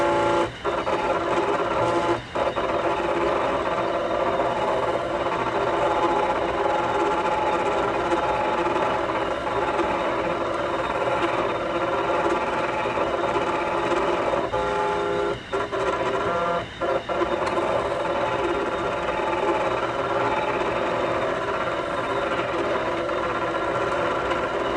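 A Cricut cutting machine runs steadily through material at close range, giving a continuous whirring motor drone with faint rhythmic carriage movement and a few brief clicks, with no talk over it.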